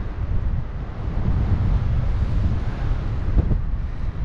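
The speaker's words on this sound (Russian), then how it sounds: "В воздухе ветерок по факту достаточно плотный." Strong, dense wind rushes past during a paragliding flight over the western slope of Demerdzhi mountain, a steady low roar with heavy buffeting on the microphone.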